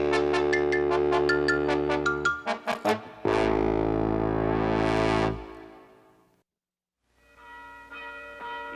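A cartoon bell in a Milton the Monster episode rings in a rapid run of bright, clear strikes, then a few separate dings and one long sustained ring that fades into silence. Fainter tones follow at the end.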